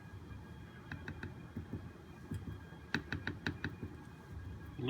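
A drawer face rocking back and forth on a granite surface plate in a workshop gives a few light, clacking taps in quick clusters, close and fairly quiet over a low background rumble.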